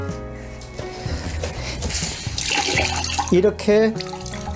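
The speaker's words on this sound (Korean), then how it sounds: "물기를 한번 짭니다" A wet cloth being wrung out by hand while cleaning window glass, water splashing and dribbling into a basin or sink with a trickling burst near the end, under a person speaking.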